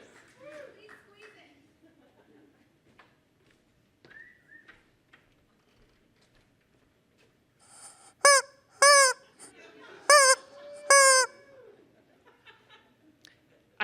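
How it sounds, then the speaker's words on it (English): A rubber chicken toy squawks four times in quick, loud, honking bursts before a small audience at an evening reading, following quiet murmurs and distant voices. "Can I borrow the rubber chicken?"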